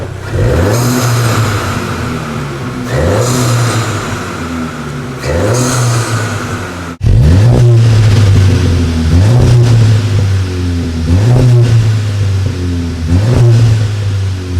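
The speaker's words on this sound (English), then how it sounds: "We're going to give you a quick rev test so you can hear what it sounds like" Loud, close engine revving of a modified Mk7.5 Volkswagen Golf GTI, about six sharp throttle blips rising and falling in a regular rhythm, with no talking.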